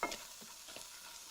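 Pine nut kernels roasting in a dry pan, a soft steady sizzle with faint stirring scrapes, close and quiet with no voices.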